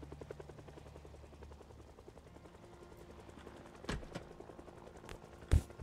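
A helicopter in a zombie video game gives a steady, fast rotor chop at moderate distance, with a couple of sharp thuds toward the end.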